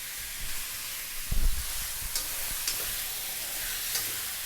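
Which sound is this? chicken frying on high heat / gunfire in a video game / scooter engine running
chicken frying on high heat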